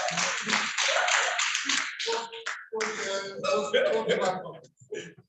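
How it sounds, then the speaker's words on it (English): Audience at an education summit plenary session clapping for themselves, irregular nearby hand claps and taps in bursts, with speech mixed in and brief pauses between. "Please give yourself a round of applause."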